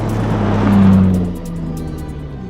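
A 900hp Toyota Supra accelerates on a drag strip, its engine swelling loudly to a peak, then easing into a steady lower drone that carries on to the end.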